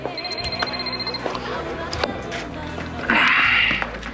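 A telephone ringing in a daytime soap opera scene, with a shrill electronic ring bursting in near the end while people talk.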